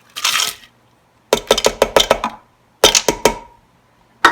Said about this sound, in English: So we're going to give it a quick stir.